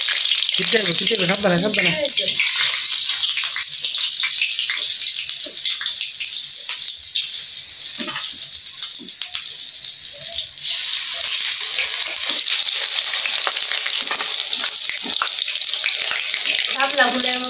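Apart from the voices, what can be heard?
water lily flower fritters frying in oil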